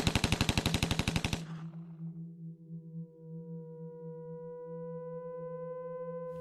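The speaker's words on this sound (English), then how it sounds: "Lily kills Rosalie with an Uzi." Uzi fire in a Hunger Games video game, a rapid rattling burst of about a dozen close, loud shots, then cut off and followed by a steady electronic tone that lingers alone.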